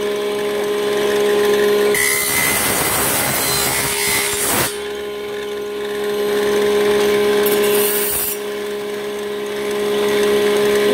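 A coconut shell is cut to make a double ladle, giving a close, loud, rough sawing and grinding rasp that comes in two long bursts over a steady mechanical hum.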